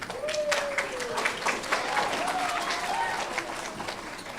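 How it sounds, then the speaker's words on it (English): Scattered applause from an audience at an elementary school fifth grade awards ceremony, light clapping running beneath voices talking. "You can applaud, it's okay."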